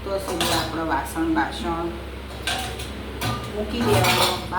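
Kitchen utensils and metal pots clatter and clink repeatedly, close and busy, as cookware is handled and set aside after cooking rice, dal, kadhi and roti, with someone talking over the clanging.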